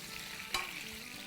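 Boiled, peeled potatoes are tipped into a pot of frying egg and potato dum biryani, giving a soft, faint sizzle with one short stirring scrape partway through.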